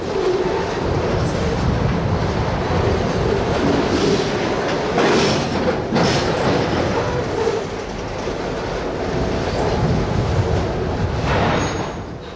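A model NX-12 locomotive hauls three gondolas and two center-beam cars out past a switch, its steady rolling rumble and light wheel clatter continuing close and unbroken throughout, with no talk.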